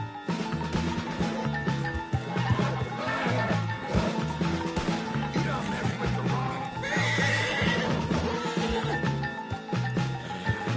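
A horse in Red Dead Redemption 2 whinnies loudly over a busy game scene, with a drawn-out neigh standing out against background effects and music-like tones.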